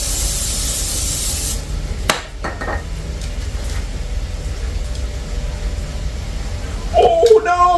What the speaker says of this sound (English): Spray them before you go in there.